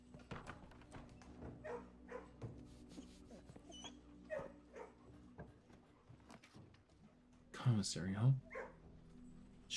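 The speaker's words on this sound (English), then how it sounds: "Gotta pet the dogs." Dogs in the video game Blue Prince give a burst of barks and yips near the end, loud over game sounds and someone talking throughout.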